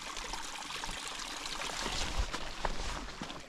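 Shallow alpine stream in a Utah mountain zone, water trickling and pouring over rocks in a steady close rush with small splashy surges, no voices.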